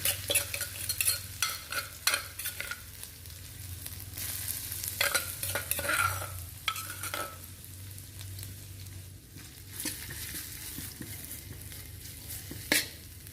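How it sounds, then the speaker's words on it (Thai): Thai curry paste stir-frying in hot oil for a catfish and dill curry: a steady sizzle with repeated scraping stirs of the spatula against the pan, fairly close, with no talking. "ใส่น้ำมันลงไป ตักเครื่องแกงเอาลงไปผัดให้หอม"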